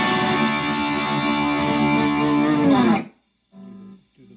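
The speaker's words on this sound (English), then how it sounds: "Clean crunch channel with the bomb distortion disengaged." Electric guitar through a Morris British Jr amp on its clean crunch channel with the boost distortion off, light crunch, a sustained strummed chord ringing for about three seconds, then a cut to silence and two short muted chord stabs.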